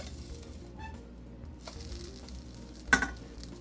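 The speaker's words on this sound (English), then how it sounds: "Now we're gonna flip the pancake over." A pancake sizzles softly in a pan after being flipped, a faint steady crackle broken by a few light scrapes and one sharp metallic clack near the end.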